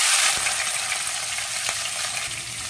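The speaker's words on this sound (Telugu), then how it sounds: "కట్ చేసుకున్న ఆనియన్స్ మొత్తం వేసుకున్నాము" Chopped onions frying in oil in a pan for jeera masala chicken curry: a loud, steady close-up sizzle with a few light clinks of stirring, no talking.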